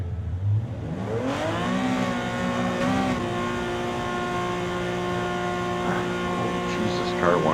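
Race car engine in Gran Turismo 7 at Atlanta revving up with a rising, then steady whine held through, people talking over it.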